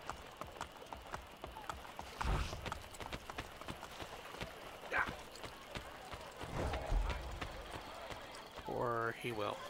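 A horse's hooves clip-clop in Assassin's Creed Brotherhood, a faint, quick run of hoofbeats under a player's talk at low overall level.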